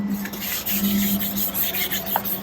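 An old, yellowed car headlight on a Daihatsu Atrai Wagon being scraped and sanded: a steady, close, continuous gritty rubbing with back-and-forth strokes and no talk.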